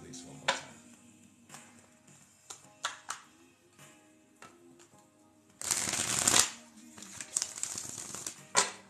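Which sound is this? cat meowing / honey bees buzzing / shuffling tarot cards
shuffling tarot cards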